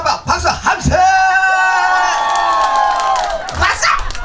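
Festival crowd in Goseong yelling and whooping loudly together, rising after a few shouted calls from a performer and holding as a long sustained roar before breaking off.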